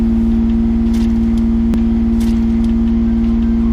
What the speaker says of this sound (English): Got a pretty high idle on it.